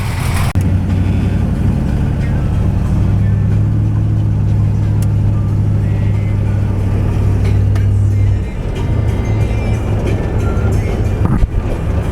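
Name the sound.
Chevy car driving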